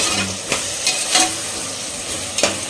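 Onions sauté in a pan over a steady low sizzle, with several sharp scrapes and knocks of a stirring spoon.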